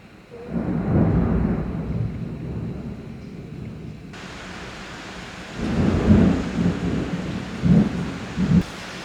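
Loud rolling thunder from a summer storm with steady rain, the deep rumbles swelling in long waves and then breaking into several sharper cracks and booms near the end, with no talking.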